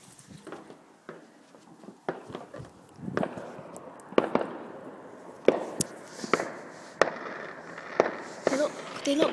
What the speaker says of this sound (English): There's loads of fireworks coming off